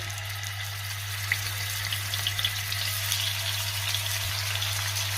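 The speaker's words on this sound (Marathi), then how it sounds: "तेल गरम झालंय, आपण यावरती हे फिश ठेवूया." Fish fries in about three spoonfuls of hot oil in a pan, giving a steady, even sizzle and hiss over a low hum, with no talking.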